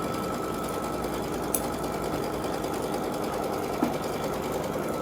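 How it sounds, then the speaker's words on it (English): Embroidery machine running 2-ply tack-down stitching on shrink fabric, a steady fast mechanical rattle and hum that stays level and close throughout, with a couple of faint clicks. "So when we're tacking our Shrinky in place, it is going to run 2-ply stitching on it."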